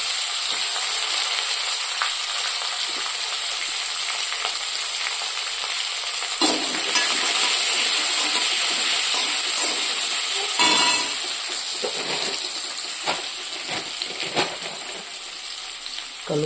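Onions frying in a hot pan for rava khichdi, a loud continuous sizzle and hiss close up, with occasional stirring scrapes and pops breaking through.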